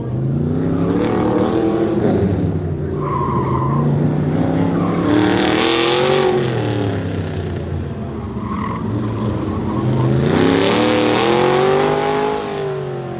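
The 1968 C3 Corvette pro-touring build called Green Mamba revs hard, its engine note climbing and falling in repeated loud, throaty sweeps with a brief lull between bursts.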